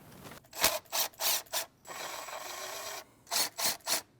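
A ratchet wrench loosens 10 mm bolts holding the transmission warmer on a 2012-2016 Honda CR-V 2.4L: close, crisp rhythmic clicking in short bursts, a steadier rasping stretch in the middle, then three more quick ratcheting strokes.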